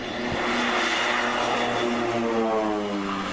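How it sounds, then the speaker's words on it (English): A small propeller airplane roars loudly at full power as it takes off from Lukla Airport in the Everest region, a steady, close engine drone with a droning propeller hum throughout. "After a long wait at Lukla Airport, we finally take off."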